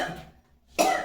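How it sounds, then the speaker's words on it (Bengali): A person coughs close by, with a fading rasp at the start, a short pause, then one sharp, harsh cough burst. "কাশি উঠে যায়"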